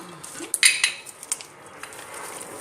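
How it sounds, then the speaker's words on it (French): Batter for a Swedish lemon tart mixed in a bowl: a quick cluster of bright clinks and scrapes of utensil on bowl, then lighter taps fading into a quiet background. "Il faut bien mélanger comme ça."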